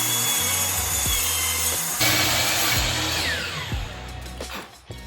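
Scrap shelf wood is cut to size in a garage with a power saw, a steady loud whine with brief pitch dips as the blade bites, fading toward the end.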